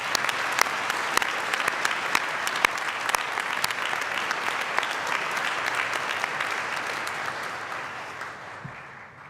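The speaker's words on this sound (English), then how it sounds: "It's customary to give them a clap too" Steady applause from a graduation ceremony audience, a broad wash of many hands with a few sharp nearby claps, holding evenly before fading out toward the end.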